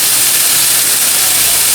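Steak sizzling in a hot pan gives a loud, steady, dense hiss that fills the whole short stretch without a break, and no one speaks over it.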